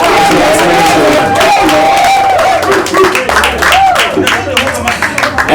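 An audience at a music-industry event in Ghana breaks into sustained applause and crowd noise, loud and continuous, with scattered cheers and babble throughout.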